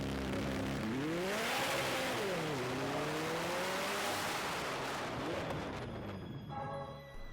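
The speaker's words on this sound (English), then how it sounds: "today we are driving the McLaren 600 LT." A McLaren 600LT sports car accelerating hard, engine note rising and falling through gear changes, loud and sustained with a sharp pop near the end.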